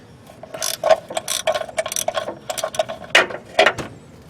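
A transmission mount bolt on a 2010 Buick Enclave is screwed in with a ratchet, giving repeated quick clicking bursts at close range with short pauses between them.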